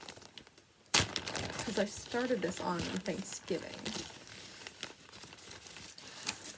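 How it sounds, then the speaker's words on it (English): Plastic crinkles and rustles loudly up close, starting with a sharp crackle and continuing in bursts while a person talks over it. "Sorry about the bag noise."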